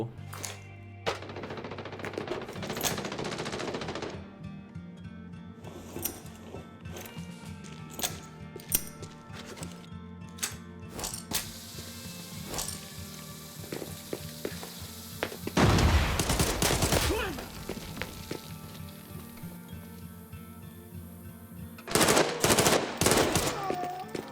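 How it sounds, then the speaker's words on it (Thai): Bursts of rapid gunfire in the video game Arena Breakout: Infinite crackle in short volleys with pauses between, including heavier sustained automatic fire, against a low mechanical background hum. "ก็ได้ยินเสียงปืนเหมือนกัน"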